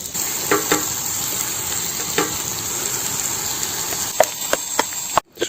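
Chicken fries in oil with onion in a pan on a portable outdoor taboon, giving a steady close hiss of sizzling broken by occasional sharp utensil clicks and scrapes.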